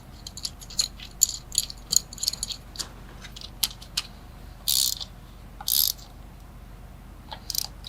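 A pulley tensioner on a VR30 car engine is tightened down with a ratchet, giving quiet, irregular clicking and ratcheting rattles with a few brief sharper metallic bursts, close and alone without talk.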